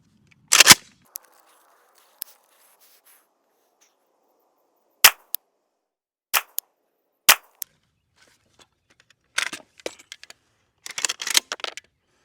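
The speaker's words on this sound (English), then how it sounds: "And we're going to put 3 more rounds downrange." Several sharp 5.56 rifle shots fired downrange at an outdoor range while testing an AR dust cover, each a loud isolated crack with short gaps between, followed by fainter clatter and handling noises.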